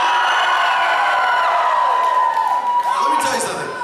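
Live concert audience at a show in Moscow cheering and whooping loudly, a dense sustained crowd roar with shouts rising near the end.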